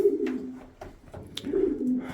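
Around 50 feral pigeons cooing nearby at night in a loft, low, throaty, overlapping calls, with faint scuffling in the background.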